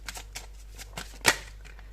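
Oracle cards are shuffled by hand in a short burst of papery riffles and flicks, close and crisp, with one sharper snap near the end.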